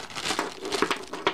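A small plastic packet holding two 6.35 mm jack plugs crinkles as it is handled, giving close, irregular bursts of rustling and crackling with no speech.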